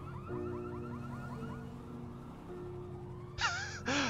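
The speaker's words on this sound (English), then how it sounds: "And why is the car alarm going off again?" A car alarm in the video game GTA V wails with repeating rising tones that fade into a steady pitch, while engine hum and a brief gasping breath sit in the mix.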